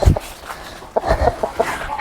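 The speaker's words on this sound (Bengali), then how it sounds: "ধরে ফেললাম অনেক বড় মুরগি" A large chicken clucks in short bursts after being caught, with a loud flap or thump at the start and soft scuffling between calls.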